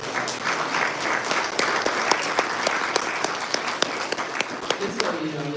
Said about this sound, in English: Can you give us, the students another round of applause?